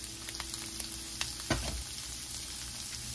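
Shrimp fry in a hot pan with a constant close sizzle and crackle, a few sharp pops, and one louder splattering burst partway through.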